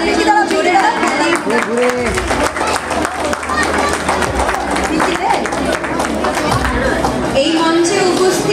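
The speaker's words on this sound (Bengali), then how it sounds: "আরেকবার তাদেরকে জোরে হাততালি" An audience at an alumni meet claps loudly and steadily for several seconds, a dense continuous patter with crowd chatter and a voice speaking over it.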